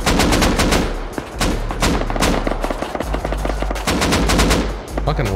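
Loud, close bursts of automatic gunfire and rapid single shots from a Rust firefight near a lighthouse, nearly continuous for the whole stretch, with no speech.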